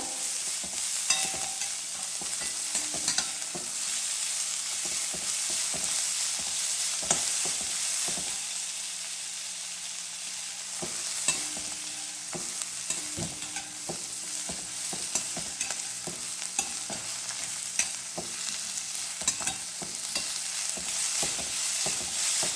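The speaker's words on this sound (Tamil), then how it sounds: "இது எண்ணெயில் நல்லா வணக்கி எடுத்துடலாங்க." Ridge gourd sautéing in hot oil for a chutney, a steady close sizzle running throughout, broken by frequent scraping taps of a spatula stirring in the pan, with no voices.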